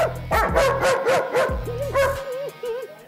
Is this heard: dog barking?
yes